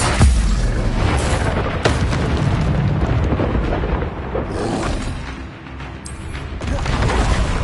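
Heavy booming blasts of the Bombarda spell in Hogwarts Legacy, loud and rumbling with sharp hits and a sustained roar of battle between them.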